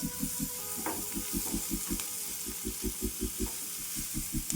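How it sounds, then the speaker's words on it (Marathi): Cumin and onion frying in oil in a wok while making stuffed chilli fritters, a steady sizzling hiss over a regular low pulsing hum, close and unbroken. "कढईमध्ये मी तेल टाकलं तेलामध्ये मी जिरं टाकलं नंतर कांदा टाकला"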